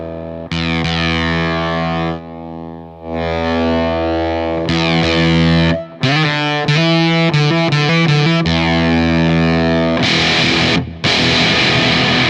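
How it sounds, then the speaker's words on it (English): Electric guitar through an LOE Sounds Super Fuzz octave fuzz pedal plays loud, thick, saturated chords and riffs, with sustained chords, a brief gap and faster picked notes, heard alone. "I don't know what this is really going to sound like other than that it's an octave fuzz."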